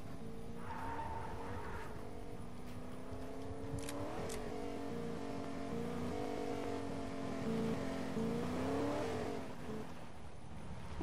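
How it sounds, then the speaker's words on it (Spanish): Car engine accelerating and revving in the video game Fortnite, a steady droning motor with rising and falling pitch and some tire skid, loud and continuous throughout with music faintly beneath. "Pega un pedazo de acelerón."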